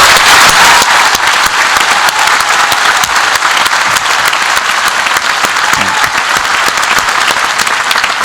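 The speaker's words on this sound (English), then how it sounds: "Let's give a big applause." Graduation ceremony audience applauding the new graduates, a dense, steady wash of many hands clapping throughout, loud and continuous in a large hall.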